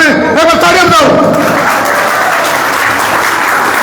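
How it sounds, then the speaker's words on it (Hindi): Crowd clapping at a rural gathering on protecting native cows, farmers and land, loud and close, with a voice shouting over the opening second before the applause carries on alone. "एक बार तालियां बजाओ"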